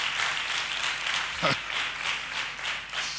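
Studio audience applauding during a Spanish late-night comedy monologue, a broad steady wash of many hands clapping with a brief louder burst midway, some voice energy faintly underneath.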